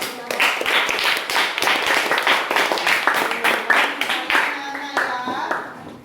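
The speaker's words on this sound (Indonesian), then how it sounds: "Dari kelompok 4, Kita berikan tepuk tangan ya." Students in a classroom clap for a group after its presentation, a lively patter of many hands lasting several seconds before thinning out, with children's voices faintly mixed in.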